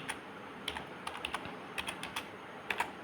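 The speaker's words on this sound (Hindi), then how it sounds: "यहाँ पे मैंने डाल दिया नाम, मान लीजिए संजीव," Keys clack on a computer keyboard while a name is entered into accounting software, arriving in short irregular bursts of crisp, close taps with brief pauses between them and no talking.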